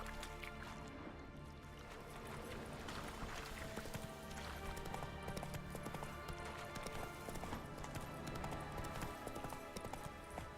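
Roach the horse galloping in The Witcher 3: Wild Hunt, hooves beating a fast, continuous clip-clop rhythm close by, layered over in-game ambience and faint music, with no talking.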